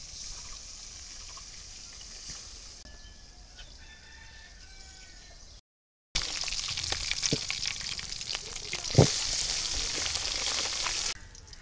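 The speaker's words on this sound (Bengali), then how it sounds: "মাছগুলো সব ভাজা হয়ে গেছে" Fish sizzling as it fries in oil in a kadai over a village cooking fire, a steady hiss that swells louder after a brief gap, with a rooster crowing faintly in the background.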